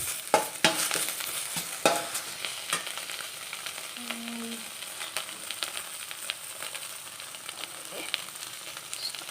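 Tender mango leaves sautéing in sunflower oil in a pan, a steady close sizzle with scattered sharp crackles and utensil scrapes, no voices.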